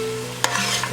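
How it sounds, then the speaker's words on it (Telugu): Dry fruits being stirred into thick bottle gourd halwa in a pan, a brief scrape and clink of the spoon over a steady low hum, close and fairly quiet. "ఇలా దగ్గర పడినాక మనం వేసుకున్న డ్రై ఫ్రూట్స్ వేసుకొని మిక్స్ చేసేసుకోండి."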